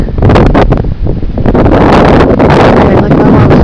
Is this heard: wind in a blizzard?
yes